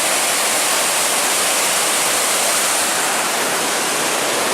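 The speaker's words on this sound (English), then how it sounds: "we just made it down here to our first river, and man, it's rushing this morning" A river runs high and fast after heavy overnight rain on a hiking trail, a loud steady broadband rush of water that fills the whole moment with no other sounds.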